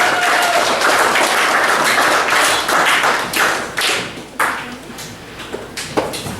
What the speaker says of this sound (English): let's give them a big round of applause for coming up here